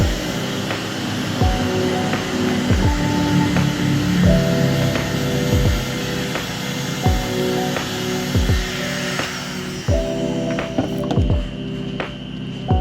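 A heat blower drying a freshly silkscreened print makes a steady, loud, close-up whooshing drone, with repeated soft thumps and tonal whines rising and falling over it. No talking is heard.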